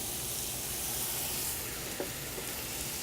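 Browned beef and rice for dirty rice sizzle steadily in a hot pan while being stirred, a continuous close frying hiss with a couple of faint scraping taps, no talking.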